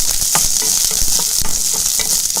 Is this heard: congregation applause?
no